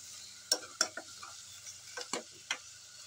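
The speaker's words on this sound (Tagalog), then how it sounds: "Ilagay ko na yung black beans." Black beans tipped into a pan of pork adobo already cooking with vinegar, giving a few sharp scraping, stirring clatters over a low background sizzle, close up with no voices.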